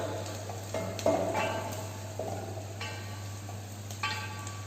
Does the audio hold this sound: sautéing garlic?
yes